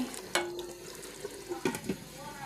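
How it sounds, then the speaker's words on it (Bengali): A spiced curry mixture with ground garam masala sautés in a pan, a low sizzle with intermittent scraping stirs and clinks, fairly quiet and close. "এখন ভালো করে কষাবো একটু ঢাকা দিয়ে দিচ্ছি"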